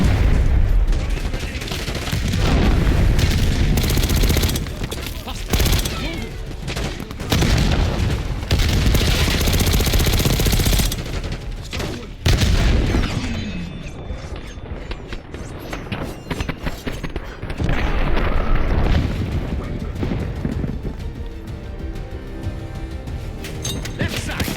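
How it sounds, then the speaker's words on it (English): Explosive charges blow and gunfire erupts in the Black Ops 6 video game, with loud booms and dense, sustained bursts of shooting close by, continuing through most of the scene before briefly easing and picking up again. "Blow those charges, Case! Weapons free."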